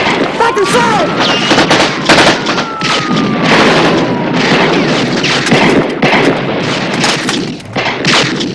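A loud gunfight outside a bank erupts in a close, dense barrage of overlapping shots and booms that carries on nearly without pause, with shouting mixed into the din.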